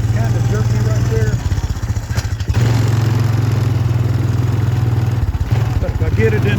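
A 2007 Honda Recon ES 220cc ATV engine running jerky, a loud close mid-pitched motor drone with a couple of brief dips and surges, plus rattling clatter over the top.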